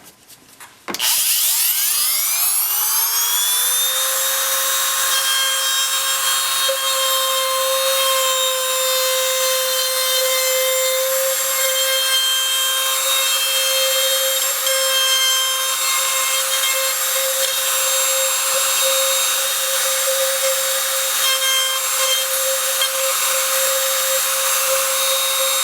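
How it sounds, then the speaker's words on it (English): A wood router cutting a hinge recess starts with a sharp spin-up whine that settles into a loud, steady high-pitched drone with a strong tonal hum, running continuously and close for over twenty seconds. "So we'll go ahead and route it."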